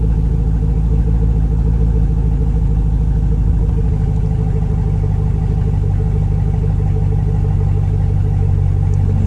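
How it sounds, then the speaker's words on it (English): A tuned Chevrolet Camaro SS V8 idles after a cold start, a steady, loud, close low rumble with an even pulsing lope and no other sounds. "Still idling pretty normal,"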